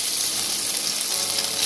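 Paneer frying in hot mustard oil gives off a steady, dense sizzle that stays even and close throughout, with no pauses or voices.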